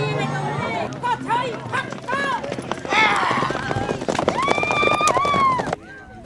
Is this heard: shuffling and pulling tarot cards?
no